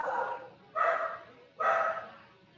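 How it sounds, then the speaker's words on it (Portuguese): Dogs bark in the distance behind an online class, three muffled, evenly spaced barks with reverberant tails, faint but clearly standing out. "Só os cachorros de fundo"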